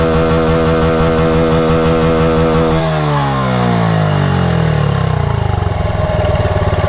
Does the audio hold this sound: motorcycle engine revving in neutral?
yes